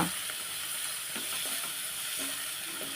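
Fenugreek leaves fry in a pan with oil and turmeric for a Telugu onion and broad bean stir-fry, giving a steady close sizzle with small crackles and occasional stirring scrapes, no voices.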